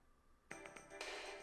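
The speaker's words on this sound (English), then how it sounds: "And then my phone rang." A phone ringtone in the video game Chaos;Child starts abruptly after a quiet moment, a short bright chiming pattern that builds into a sustained ringing tone.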